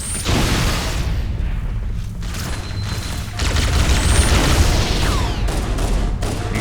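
Grenade explosions and heavy gunfire in the video game Halo: Combat Evolved, with loud repeated booms and crackling shots over a continuous rumbling battle.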